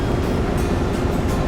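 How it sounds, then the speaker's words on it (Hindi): Water waves splash and churn in Hong Kong harbour near the West Kowloon Cultural District, a steady, fairly loud broadband wash with no talk over it. "पानी की लहरें काफ़ी उछल रही हैं"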